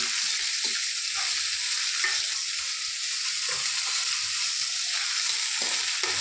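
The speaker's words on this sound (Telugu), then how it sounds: "బాగా వేయించుకోవాలి బెండకాయ ముక్కలు" Okra pieces fry in oil, giving a steady, close sizzle and crackle with faint stirring scrapes now and then throughout.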